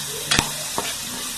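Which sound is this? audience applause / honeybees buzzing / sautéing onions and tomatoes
sautéing onions and tomatoes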